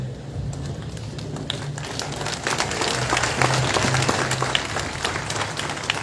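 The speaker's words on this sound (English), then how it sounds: "let us give your folks a big round of applause" Audience at a 2022 high school graduation ceremony applauding steadily for about six seconds, a dense, even wash of many hands clapping in a large hall, with no talking over it.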